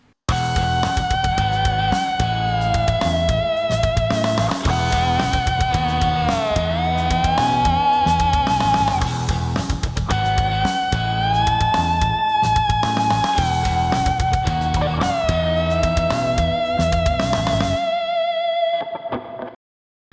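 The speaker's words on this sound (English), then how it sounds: "So I'm picking one note, but then I'm having to anticipate what notes I want, and I'm using the whammy" A loud, distorted electric guitar plays a sustained melodic line, pitch bending and wavering with whammy bar dips and swoops, over a droning backing before stopping abruptly.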